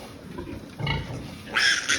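Low snorting grunts from a sow that has just farrowed, with brief higher squeals of newborn piglets near the end, close by and fairly quiet.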